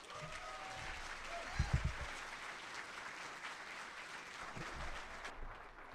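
A small breakfast event audience claps steadily to welcome a returning speaker to the stage, with a soft continuous patter and a few louder claps near the start.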